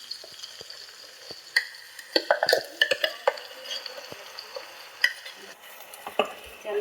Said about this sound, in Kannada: ಎಣ್ಣೆಯಲ್ಲೇ ಚೆನ್ನಾಗಿ ಬಾಡಿಸ್ತಾ ಇದ್ದೀನಿ